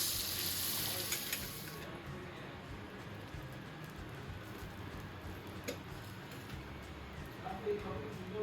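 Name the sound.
sautéing spiced dal in a pan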